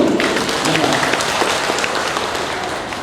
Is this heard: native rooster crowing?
no